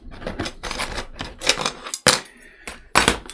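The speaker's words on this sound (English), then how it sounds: "Okay, so I'm going to cut a piece." Cutting a tiny piece, about 3 mm long, for a 1/84 scale HMS Victory model ship, a close series of sharp clacks and snaps with a few louder knocks.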